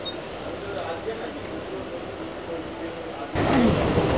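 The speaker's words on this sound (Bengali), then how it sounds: "আমাদের ট্রেন এখন কল্যাণী ঘোষপাড়ায় আসছে" A local train pulls into Kalyani Ghoshpara station, a steady low rumble and rattle of carriages heard from inside, swelling louder near the end, with a person speaking over it.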